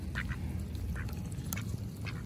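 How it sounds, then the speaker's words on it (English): Ducks quack on the Yellowstone River, several raspy calls repeating close by over a constant rushing background of flowing water, with no talk. "Here you go, ducks."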